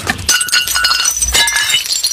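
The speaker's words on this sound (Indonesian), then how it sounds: "Hancur piringku, pecah satu dah." Ceramic dinner plate breaking and shattering, a loud burst of crashing, clinking shards filling about two seconds with no talk over it.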